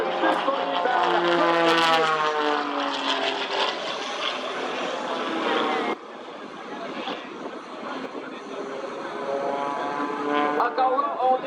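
A 400-horsepower propeller airplane takes off at an airshow in Saint-Georges, Beauce, Quebec, its strong droning engine tone shifting in pitch as it passes, while a commentator talks over it.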